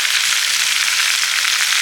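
Raw green mango pickle with Kashmiri red chili powder sizzles and fries loudly in a pan as it is stirred. A dense, steady crackle runs without a break.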